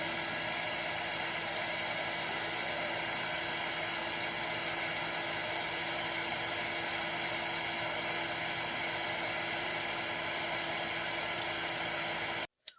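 Hot air blower heating the thermostat sensor of a deep fryer: a loud, steady roaring whoosh of blown air held constant for the whole stretch, cutting off abruptly at the very end.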